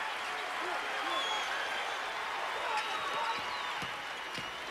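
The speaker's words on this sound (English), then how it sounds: "And the crowd now getting into it for the first time." A basketball crowd at Indiana's arena in Bloomington cheers and applauds during the 1989 Illinois at Indiana game, a steady distant roar under a commentator's voice.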